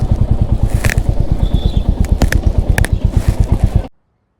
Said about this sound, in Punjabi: ਇੱਧਰ ਸਾਹਮਣੇ ਆਪਾਂ ਮੋਟਰਸਾਈਕਲ ਖੜਾ ਕਰਤਾ